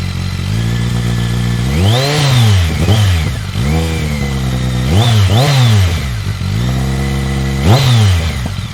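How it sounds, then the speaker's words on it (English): BMW K1200S motorcycle engine revving up and falling back in several sharp bursts. The pitch rises and drops on each blip, loud and close, over a steady idle with no voices. "But let's get a sound clip of the K1200S."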